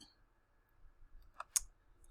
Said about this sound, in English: we click on that